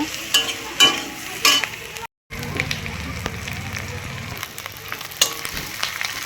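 Onions fry in hot oil for a small-fish and tomato curry, giving a loud, continuous sizzle broken by sharp stirring clatters and a brief cut in the sound.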